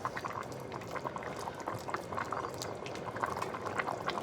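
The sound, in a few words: pot of Cajun pastalaya liquid coming to a boil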